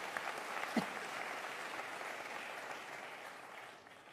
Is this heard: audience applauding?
yes